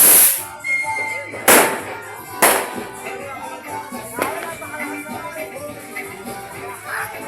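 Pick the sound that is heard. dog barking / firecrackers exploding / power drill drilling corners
firecrackers exploding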